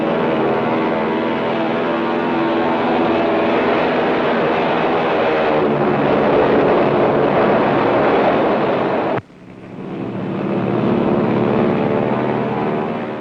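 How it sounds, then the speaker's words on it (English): B-25 bomber engines roar steadily and loud during takeoff from an aircraft carrier in heavy seas, a sustained propeller drone that cuts off sharply and then swells again as another aircraft starts its run. "they time their takeoff with the upsurge of the bow of the carrier in the heavy seas"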